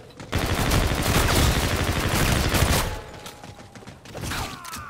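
Gunfire in a shooting video game: a loud, dense roar of rapid shots fills a few seconds, drops to a quieter tail, then flares briefly again.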